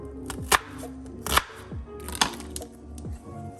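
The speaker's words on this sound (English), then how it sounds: "So with the onion specifically, I'm gonna cut it pretty thick here." A knife chops an onion into thick pieces on a cutting board, with four sharp, evenly spaced thuds heard up close and no voices.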